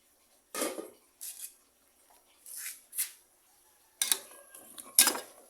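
A metal ladle clinks against a cooking pot of simmering pumpkin, malunggay and small crabs: a handful of separate, irregular knocks and scrapes close by, with quiet gaps between them and no talking.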